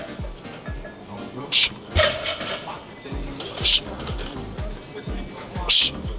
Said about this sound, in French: là, je repose la barre